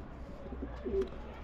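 Pigeons in a loft give a faint, low coo over a quiet background murmur, heard once, briefly and softly.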